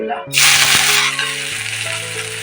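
Dried fish (shutki) is dropped into hot oil left from frying dried chilies, setting off a sudden loud sizzle that settles into a steady hiss over a sustained tonal background.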